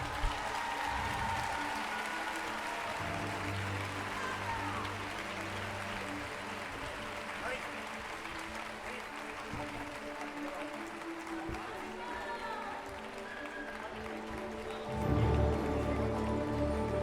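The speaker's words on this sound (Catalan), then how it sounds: "Vinga, va, més fort aquest aplaudiment" Applause from the audience at a school's end-of-year party, a long, steady wash of clapping heard from a distance, with a louder swell toward the end.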